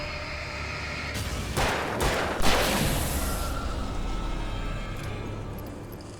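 Gunfire in Alan Wake Remastered: a few loud broadband bursts in the middle, roughly a second apart, over a steady low rumble of game ambience.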